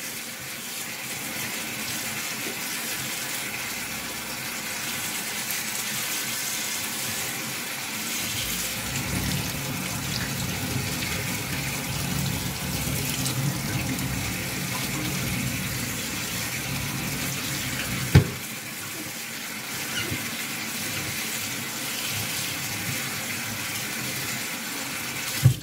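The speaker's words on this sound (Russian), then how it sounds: "Вот они у меня только сварились. Я их сразу в холодную воду." Cold tap water pours steadily into a sink over freshly boiled pasta, a constant hissing gush with the tone shifting as the stream hits the noodles, and a couple of sharp knocks near the end.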